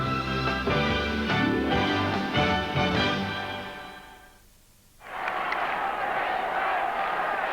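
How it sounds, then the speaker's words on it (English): A big crowd at the Gabba during a 1993 Brisbane versus Fitzroy Australian football game roars, first under loud music, then after a brief lull as a broad, sustained wash of cheering. "the big crowd here at the Gabba getting a little excited now"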